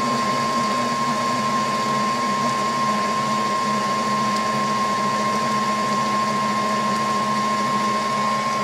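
An electric mixer beats two eggs into chocolate loaf cake batter, giving off a constant, loud motor whine with a steady hum and no pauses, and no voices over it.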